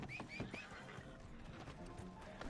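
A horse whinnies in Red Dead Redemption 2 Online with a short, rising and falling neigh near the start, followed by soft hoof and ambient game sounds that continue steadily throughout.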